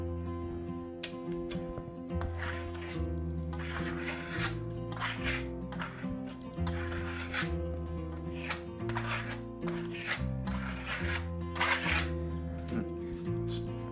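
A trowel scrapes and smooths Venetian plaster on a wall in repeated rasping strokes, each a short swish, heard over steady tonal background music.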